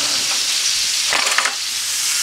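Venison backstrap sears in a hot pan over a seasoning base, giving a steady, loud frying sizzle with a brief louder crackling burst partway through and no talking.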